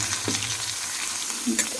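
Steady hiss of hot tempering oil sizzling as it is poured into a pumpkin stew, with a brief clink and a stir partway through, close and continuous.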